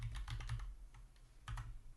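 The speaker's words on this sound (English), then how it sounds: "but if I'm typing" Typing on a computer keyboard during a Flutter app-building livestream, with bursts of close, rapid key clicks, a pause, then another short burst of keystrokes.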